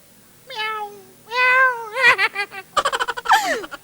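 A voice imitates a cat, drawing out several whiny meows of rising and falling pitch, then a rapid stuttering string of short mewing yelps, close and clear.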